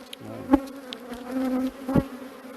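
Honeybees hum around an open hive in an apiary in late March, a close, steady buzz rising and falling as single bees pass near.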